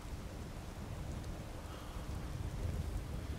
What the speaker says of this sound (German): Och, jetzt haben wir Regen.